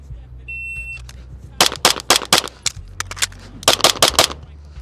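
Rapid pistol shots ring out in a shooting drill, two tight bursts of about six to eight sharp cracks each with a brief pause between, loud and close over low background rumble and a faint electronic beep.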